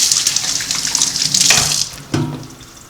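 Water rushes from a kitchen tap as hands are rinsed clean after coating Brussels sprouts, a steady hiss with brief splashing changes near the end.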